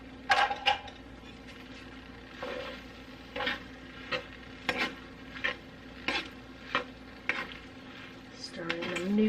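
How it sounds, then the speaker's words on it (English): A spoon stirs noodles into a sizzling pan of creamy garlic chicken pasta, a soft hiss with a regular series of close scraping and clinking strokes against the pan, and a voice speaks briefly at the end. "Stir in the noodles."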